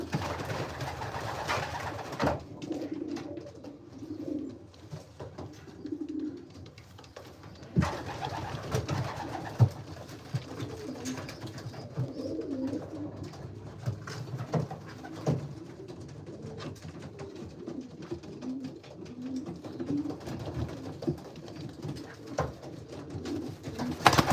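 Pigeons coo softly and repeatedly inside a pigeon loft, low rumbling calls rolling on steadily alongside faint rustling and occasional knocks.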